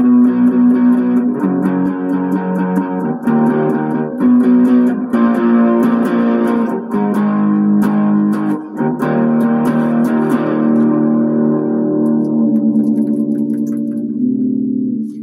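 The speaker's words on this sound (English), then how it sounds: "But it's a rock guitar, so I'm playing it with a little bit of distortion." An Ibanez miKro GRGM21 short-scale electric guitar played through light distortion with the tone knob near the middle, a continuous run of loud chords and notes, sustained and alone, fading at the end.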